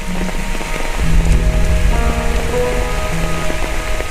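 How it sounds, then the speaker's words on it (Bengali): Steady, dense patter of heavy rain drumming on a surface, loud and close, with a faint tonal hum running underneath. "প্রচুর বৃষ্টি হচ্ছে, মানে না বলার মতন।"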